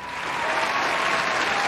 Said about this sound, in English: Won't you give him a round of applause?